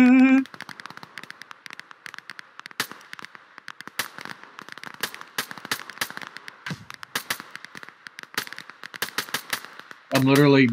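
Gunshots in the video game Operation: Harsh Doorstop, a string of sharp cracking reports fired in irregular bursts, loud and close, with someone talking briefly at the start and end.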